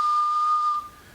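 Someone whistles a single steady tone into a CB radio microphone for an audio test, the pitch held evenly for most of a second before it cuts off, fairly faint and clean.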